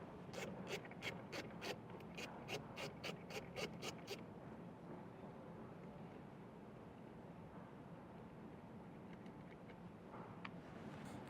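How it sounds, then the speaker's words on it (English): A 12mm socket wrench ratchets a nut off the positive battery post of a 2026 Toyota, about a dozen quick, close clicks over the first few seconds, then only faint rubbing and handling noise. "Using a 12mm socket, I'll get this nut removed on our positive post."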